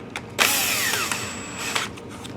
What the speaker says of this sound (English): now we can get the drill. Bring my clutch way down.